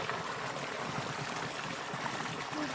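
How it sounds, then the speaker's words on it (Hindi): Flowing stream water in a hill village field, the cold, clear water running continuously as a steady broadband rush with soft gurgling, close and fairly loud throughout. "नदी जैसी बहती है ये सारा पानी"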